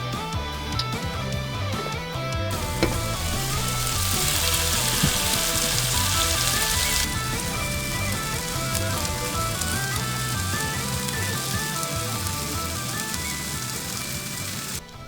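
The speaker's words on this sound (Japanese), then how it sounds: "8分蒸し焼きにする。" Bite-sized tsukune pieces steam-fry in an oiled pan, giving off a steady, close sizzle and hiss like light rain, louder for a stretch in the middle, with faint clicks and rattles over it and no talking.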